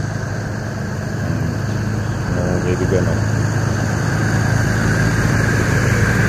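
A Yamaha Grabis motorcycle idles at a roadside in the morning, a close, steady low engine hum with an even drone throughout while someone talks over it.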